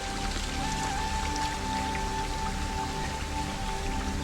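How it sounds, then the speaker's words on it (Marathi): Steady monsoon rain patters on surfaces all around at Kalavantin Durg in the Sahyadri hills, a constant soft hiss with scattered drops, accompanied by a faint tonal hum; no voices. "मस्त पाऊस पडलेला"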